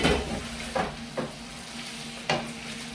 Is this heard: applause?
no